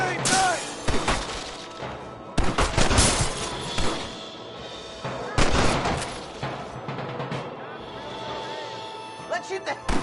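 Gunfire from a Western-style shootout in Red Dead Redemption: bursts of loud, close shots come in clusters, with a dense sustained volley near the start and sharp isolated cracks later, set against shouted voices.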